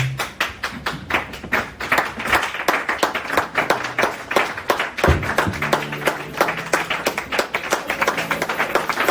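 A church congregation claps rhythmically and steadily in praise, with loud, close, even beats and occasional thumps, continuing without pause throughout.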